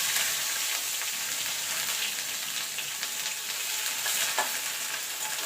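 Whole spices, a torn bay leaf, two dried red chillies, cumin seeds and chopped ginger, sizzle steadily in hot oil for a Bengali lau dal tempering, a continuous close crackling hiss with no talk.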